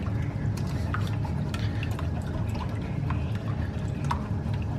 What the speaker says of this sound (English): you just kind of beat them in the pan